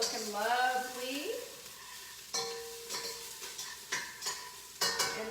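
Garlic and onions sizzle in a pan alongside chili preparation, with bursts of frying hiss and several sharp utensil scrapes and stirs breaking in; a voice talks briefly over the cooking at the start.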